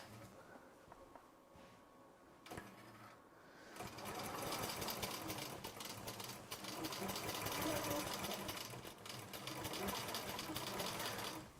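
A Butler Robotics longarm quilting machine basting a quilt runs with a steady, fast mechanical chatter, quiet at first and then louder and continuous from about four seconds on.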